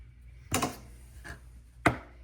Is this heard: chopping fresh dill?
yes